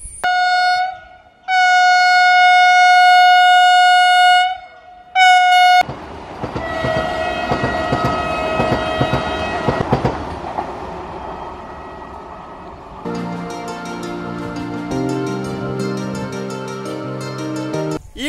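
A Vande Bharat Express train sounds long, loud horn blasts, then rumbles and clatters past close by, the steady rolling noise continuing to the end.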